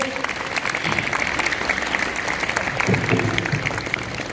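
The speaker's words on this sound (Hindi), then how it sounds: "एक बार जोरदार तालियां होनी चाहिए" A hall audience claps after a speech at a school event, steady applause with a faint crowd murmur and occasional voices underneath.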